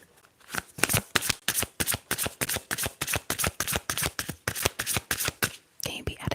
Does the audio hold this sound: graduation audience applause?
no